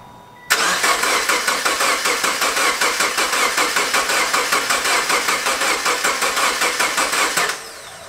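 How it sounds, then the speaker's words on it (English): A Subaru Forester XT engine cranks steadily for about seven seconds with a fast, even starter rhythm, loud and close, without catching into a running idle, then cuts off. "you're just gonna crank it now"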